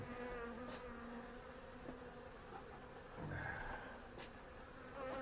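Honey bees hum in a soft, continuous drone around an opened hive whose colony has already swarmed, faint and steady throughout with no voices.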